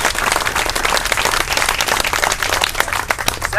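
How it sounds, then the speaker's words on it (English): A crowd gathered at an outdoor pro-democracy rally breaks into a round of applause, dense and loud clapping from many people close by, sustained with a few sharper individual claps and no talking. "I'd like a round of applause for everybody who's come out here today to support democracy"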